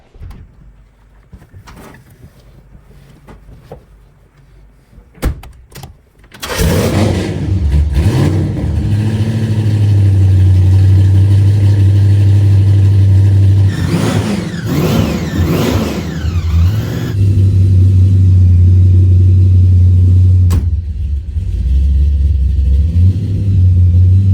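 A car engine cranks and catches after a few quiet seconds, then settles into a loud, steady rumbling idle with several sharp revs in the middle, close and continuous to the end.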